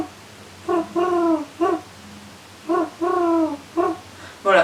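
A person imitates a pigeon's cooing, with two groups of throaty, warbling coos, each a short note, a longer rolling one and another short note, loud and close with quiet gaps between them.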